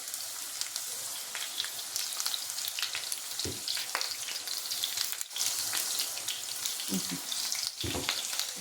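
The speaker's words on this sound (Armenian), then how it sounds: "կարտոֆիլ տապակենք" Salted potatoes fry in a pan with a steady, dense sizzle that runs the whole time, broken by a few soft thumps and clinks near the end.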